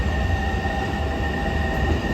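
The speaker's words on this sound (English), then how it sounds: "The Tri-Rail's being pulled by one of the freight locomotives." Tri-Rail commuter train pulled by a GP freight locomotive at Miami Airport station, a steady rumbling rail noise with a faint high whine, heard from a moderate distance and without talk.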